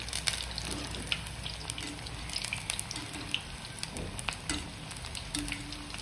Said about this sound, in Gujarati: પલટાવી ગોલ્ડન બ્રાઉન થાય ત્યાં સુધી તળી લઈશું.